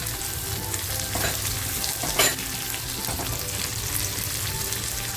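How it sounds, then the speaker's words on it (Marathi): Tomato and cashews fry in a pan for a Marathi-style paneer tikka masala, giving a steady, close sizzle with occasional stirring scrapes and no voices. "एक टॅमॅटो घेतला होता तो टॅमॅटो टाकते काजू घेतले होते ते टाकते"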